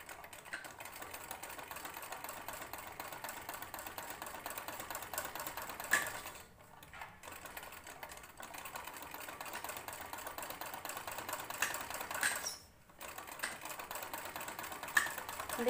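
A sewing machine stitches fabric for a blouse latkan in a steady, close, moderately quiet whir, pausing twice briefly before running on again.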